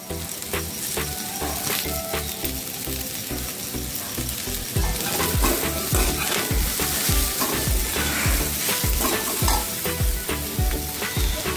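Okra with salt sautéing in a hot pan, a steady close sizzle with repeated scraping and stirring strokes throughout, growing slightly louder midway, with no talk.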